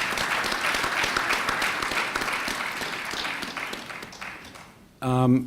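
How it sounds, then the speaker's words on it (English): A full audience at a panel discussion applauds steadily for about five seconds, broad and sustained clapping, before it cuts abruptly to a different sound at the end. "I think that alone deserves another round of applause"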